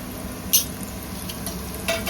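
Tomatoes dropped into onions sizzling in a pan for vegetable pulao, a continuous close frying hiss with a couple of brief stirring scrapes, no voices.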